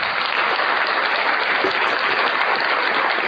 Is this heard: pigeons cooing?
no